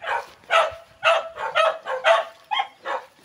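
A dog barking near and loud, a steady run of about eight sharp barks in quick rhythm with no other sound.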